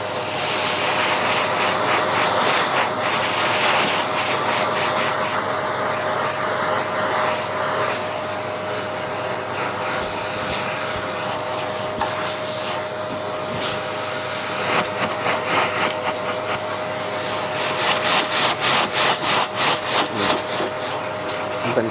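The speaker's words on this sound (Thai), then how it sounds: "มันเป็นเครื่องดูดผมมานะ" A barber's hair vacuum suction machine runs continuously at a quick barbershop, a steady loud whirring drone with a constant tone, close by, with faint rubbing and brushing noises over it and no talk.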